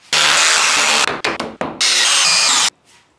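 Power drill driving screws into a wooden wall shelf for hanging a bike, close and loud, in two long whirring runs separated by a few short stop-start bursts, then quiet.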